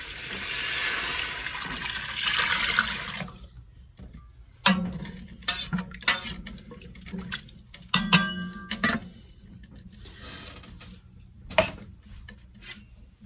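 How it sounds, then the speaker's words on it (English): Four cups of water poured into a soup pot for cabbage soup: a steady rushing pour for a few seconds, then scattered clinks and knocks of the pot and utensils. "I got 4 cups of water that I'm going to put in here."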